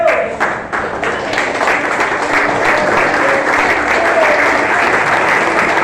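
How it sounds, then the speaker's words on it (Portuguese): A church congregation applauds steadily during a Sunday service, dense clapping filling the space from start to finish with faint voices mixed in. "Vamos aplaudir o Senhor porque Ele é digno."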